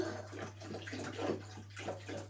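Water runs steadily into a container half-filled while cleaning a Japanese aquarium, a close, low gurgling flow with a constant hum underneath.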